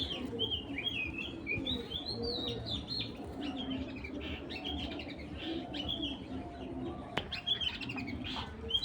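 Pigeons coo and birds chirp in a busy loft, with occasional wing flaps and a sharp knock over steady background noise.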